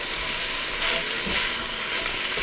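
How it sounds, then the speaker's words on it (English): Bacon frying in a pan, a steady bright crackling sizzle with small pops, close and continuous with no voices. "then we're going to cook the bacon"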